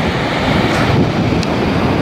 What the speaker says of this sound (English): The water is really flowing fast